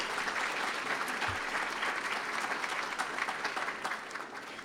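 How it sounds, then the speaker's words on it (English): Steady applause from a seated audience at a business hall of fame ceremony, dense and even throughout, gradually easing slightly toward the end. "Yes, big round of applause."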